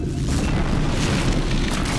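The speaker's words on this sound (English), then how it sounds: "Ooh, look at that explosion." A loud, sustained booming rumble from an explosion in the video game Star Trek Legacy, dense and low, like a big blast rolling on for a couple of seconds.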